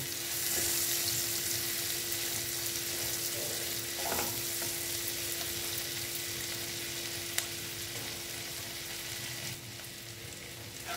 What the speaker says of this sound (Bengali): এবার আমি পেঁয়াজটাকে ভালো মতন ভেজে নেব